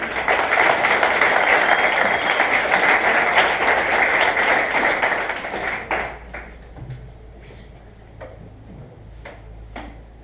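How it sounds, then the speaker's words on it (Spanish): A burst of applause from a church congregation, loud and dense at first, then thinning into scattered individual claps that fade out. "Vamos a darle un aplauso."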